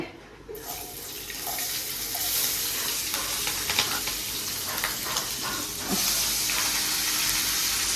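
Food frying and sizzling in hot oil in a home kitchen, a steady bright crackle and hiss that spits and splatters, with a sharp burst of popping toward the end.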